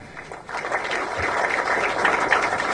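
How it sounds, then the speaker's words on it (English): An audience at a peace initiative gathering applauding, a steady patter of many hands clapping that swells after a brief quieter start and holds at moderate loudness. "Let's not tire to give them a hearty round of applause."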